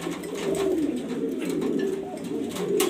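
Grizzle racer pigeons, a loft of breeding hens and cocks, coo in a steady, rolling drone of overlapping low calls, close and continuous throughout.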